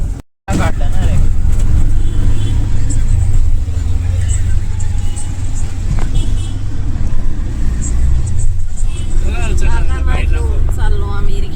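An auto rickshaw rumbles steadily through traffic with a loud low engine drone, while people talk over the ride throughout.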